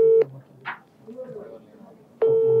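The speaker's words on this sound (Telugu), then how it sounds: "డైరెక్ట్ లైవ్ లో ఫోన్ చేసి ప్రయత్నం చేస్తున్నాం" A telephone call is placed live during a news discussion: a steady dial or ringback tone opens and closes the clip, with faint voices and room noise in between.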